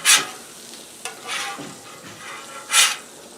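Grilled cheese sandwiches frying on a Blackstone griddle, with a steady soft sizzle and a few brief louder scrapes and flips of the spatula against the hot flat-top.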